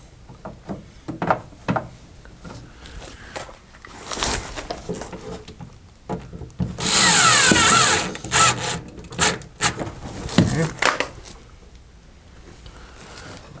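Small Skil electric screwdriver used while restoring a Journey arcade cabinet: one sustained whirring burst of about a second stands out amid clicks, rubbing and handling noises of parts and wood.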